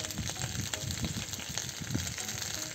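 Onions layered over potatoes fry quietly in a pan over coals, a soft continuous sizzle with faint crackles throughout.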